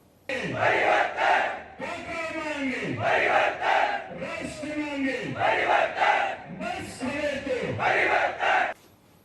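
A crowd at an Aam Aadmi Party evening rally in Surat chants and cheers in loud, rhythmic bursts, with repeated collective shouts rising and falling in waves and brief gaps between them.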